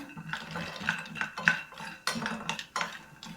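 Skin-on peanuts tumble into a pan for dry roasting, giving a quick run of close, light rattling clatters and scrapes against the metal, irregular and brief.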